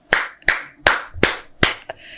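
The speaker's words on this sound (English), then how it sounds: "Let's clap for him." Five sharp, close hand claps ring out at a steady, deliberate pace, each one crisp and separated by a brief silence, with no crowd or voices around them.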